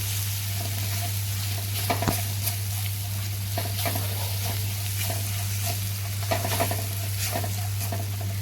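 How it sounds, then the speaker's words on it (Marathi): Spices, including chilli powder and onion-garlic masala, sauté in oil for a split black gram dal: a steady close sizzle with intermittent stirring scrapes over a low hum, no talking. "हे छान मसाले परत परतून घ्यायचे आहेत तेलामध्ये"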